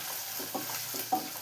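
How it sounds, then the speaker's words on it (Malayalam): Thinly sliced ginger fries in coconut oil in a pan, a steady soft sizzle with a few stirring scrapes, heard alone with no talk. "ഇതിലോട്ട് ആദ്യം ഇഞ്ചി ഇട്ടിട്ടൊന്ന് ഫ്രൈ ചെയ്തെടുക്കാം."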